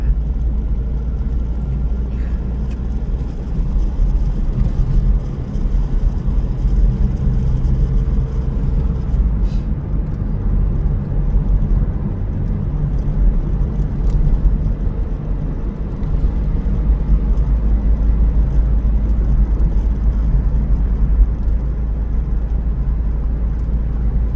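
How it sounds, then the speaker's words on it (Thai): A vehicle drives steadily through Pa Tio district in Yasothon, Thailand, with a constant low engine and road rumble that stays loud and unbroken throughout, with no speech. "ขี่รถผ่านค่ะ"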